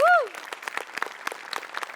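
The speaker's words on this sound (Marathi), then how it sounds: "तुझ्यासाठी टाळ्या" Studio audience applauding a performance on a Marathi comedy sketch show, a steady patter of claps following a brief rising tonal sound at the start.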